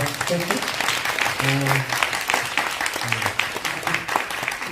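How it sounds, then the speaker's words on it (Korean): An audience applauds at a talk event at the Roh Moo-hyun Citizen Center, with steady clapping running throughout while people talk over it. "박수 한번 주세요."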